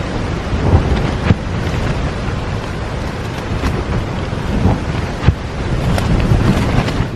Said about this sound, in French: On va essayer d'enregistrer le bruit du vent.